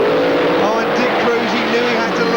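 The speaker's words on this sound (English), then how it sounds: "those engines really do scream as they come into stage" Drag racing car engines at Santa Pod's 1990 Easter Thunderball scream loudly as they rev high while coming into stage, a dense, continuous roar with wavering pitch.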